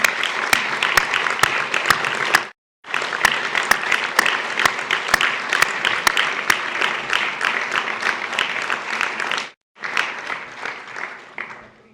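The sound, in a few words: applause for family and friends at ceremony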